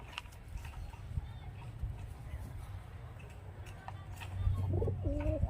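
A male Sabja domestic pigeon coos in soft, low repeated calls close by, under someone talking, with a slightly louder burst of cooing near the end.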